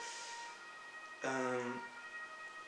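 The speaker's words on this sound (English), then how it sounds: "ambulance passing by" An ambulance siren passing by wails briefly and loudly, a strong harmonic tone that cuts in over steady background hum and then fades after about half a second.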